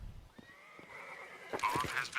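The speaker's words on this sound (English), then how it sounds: "Horse is not happy." Horse whinny from the Counter-Strike game during a match, a rising drawn-out neigh that ends in a brief shaky flourish, faint and alone in a short burst.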